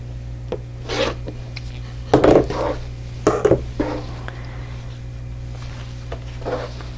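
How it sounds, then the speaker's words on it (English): Quilt fabric is trimmed along a ruler to remove the selvages with a few close rasping, rubbing strokes. They come in short bursts over a low steady hum. "So I'm going to go ahead and cut these selvages off."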